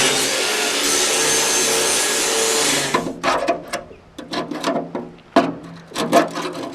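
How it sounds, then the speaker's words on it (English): An angle grinder bites into the rusty bulkhead of a Series 1 Land Rover with a loud, steady, harsh whine for about three seconds. It then breaks into a series of short, choppy grinding bursts. "We'll probably just see rust and bits of metal explode everywhere when I put the grinder on it."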